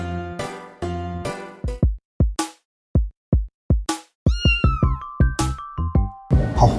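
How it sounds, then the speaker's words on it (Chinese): Several cats meow in a cat café in Keelung, a run of close, distinct calls with short pauses between them, some drawn out and rising, ending in a rougher, noisier cry. "我们在基隆一间很酷的猫咪咖啡厅，他平常有十只猫"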